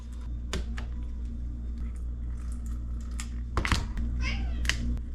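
A cat in a home kitchen, where tofu is being drained for pan-frying, gives a few short, faint meows over a steady background hum, with small clicks and rustles around it.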